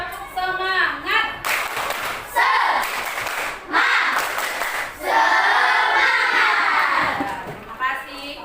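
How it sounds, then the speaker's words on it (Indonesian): A classroom of children does a rhythmic spirit clap, bursts of clapping in patterned beats mixed with chanting voices and a teacher speaking, fairly close and lively. "ayo kita tepuk semangat terlebih dahulu. Tepuk semangat!"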